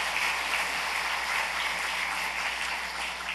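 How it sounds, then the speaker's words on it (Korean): A church congregation applauds to welcome guests, a dense, steady wash of clapping from many hands that holds evenly throughout, moderately distant, with no voices over it. "우리가 박수로 환영하겠습니다."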